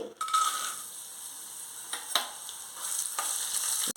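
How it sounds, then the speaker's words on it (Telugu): Sundried turkey berries fry in hot oil, a soft, steady sizzle with occasional stirring scrapes, faint and close, with no talking. "ఈ ఉస్తి వరుగుల్ని మనము ఈ ఆయిల్లో వేసి వేయించుకొని ముందుగా పక్కన తీసి పెట్టేసుకోవాలి"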